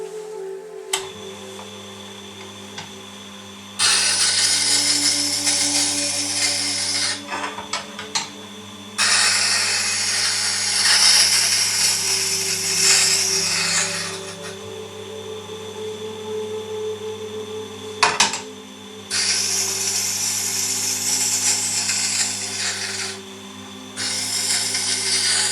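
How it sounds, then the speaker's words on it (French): A bench grinding wheel hums steadily while woodturning tools are pressed against it for sharpening, producing several loud gritty grinding passes of a few seconds each, separated by quieter stretches of motor whine alone. "toujours passer sur toute la largeur de la meule de façon à user partout et pas avoir des endroits où il y aurait des rainures"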